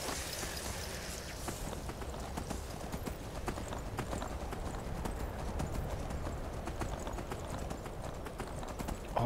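Horse hooves clip-clopping steadily in the video game Skyrim, a continuous rhythmic trot with sharp repeated hoofbeats over a rushing, windy background, fairly loud throughout.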